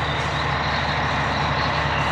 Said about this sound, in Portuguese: aquele caminhão que eu falei da carga torta tá aí, ó. A carga de melão, né?